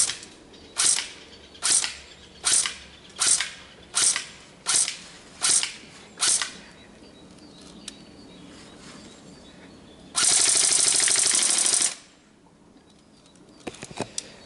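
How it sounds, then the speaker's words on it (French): An ASR 111 airsoft replica fires at a target: eight sharp, evenly spaced shots in quick succession, then a long burst of loud hissing noise, and later a few faint clicks, with no talk. "on va pouvoir passer au test de tir"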